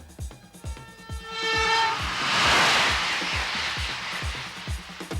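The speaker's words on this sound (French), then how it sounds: "Le TGV est parti." A TGV high-speed train pulling away, with rhythmic wheel clicks over rail joints, a sustained horn tone and a swelling rushing roar that builds and stays close and loud.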